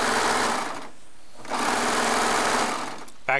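Baby Lock serger stitching quilt charm squares, a fast buzzing machine whir in two bursts separated by a brief pause, close and fairly loud.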